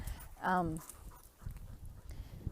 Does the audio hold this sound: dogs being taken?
yes